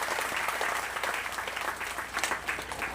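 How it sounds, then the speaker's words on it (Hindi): An audience at a spiritual gathering breaks into steady, dense applause, loud and even throughout with no voices over it. "एक बार कर कड़ाके का ताली बजाकर उनका स्वागत"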